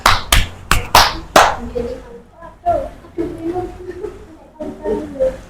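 Children in a classroom give a few sharp group claps at the start, then a child's and adult's voices talk over the quieter remainder.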